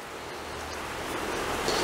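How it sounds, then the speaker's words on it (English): Dyed fabric, coloured with homemade walnut brown dye, being rinsed in clean water: a continuous, close, even splashing and sloshing wash with no voices. "what we're going to do is rinse it in clean water"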